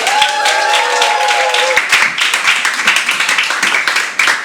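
An audience at an English-language stand-up comedy show in Valencia claps and cheers for a performer. The applause is loud and close, and a voice speaks over it at first before the dense clapping takes over.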